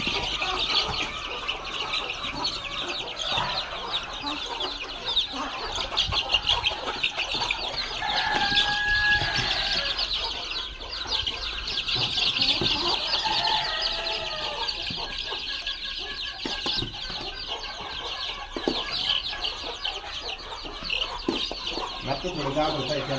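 Free-range desi chickens and 21-to-25-day-old chicks on a poultry farm, busy clucking, chirping and wing flapping close by, with occasional human voices mixed in.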